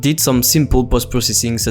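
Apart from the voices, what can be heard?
No everyday noise stands out behind the speech.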